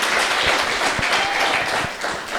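Congregation applauding during a Sunday church service, a short burst of dense, fairly loud clapping from many people, with no speech over it.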